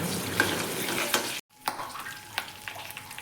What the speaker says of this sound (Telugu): అదే కళాయిలో కొంచెం ఆయిల్ వేసి ఆవాలు జీలకర్ర మినప్పప్పు రెడ్ చిల్లీ కరివేపాకు నాలుగు వెల్లుల్లి రెబ్బలు వేసి బాగా వేయించాలి